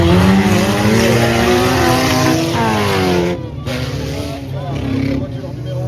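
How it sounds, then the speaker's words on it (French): Stock car engines roar back to life and rev together at a wood-track race in Bertrix, a loud, dense, close engine drone that dips briefly before building again, with no talking. "on entend les moteurs qui repartent et c'est reparti"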